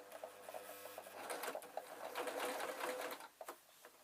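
A sewing machine runs steadily, its needle stitching a tweedle muffler and catching embroidery thread in a quick, even mechanical chatter that rises slightly midway and pauses briefly near the end.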